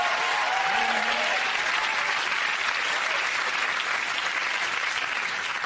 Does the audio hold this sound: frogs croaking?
no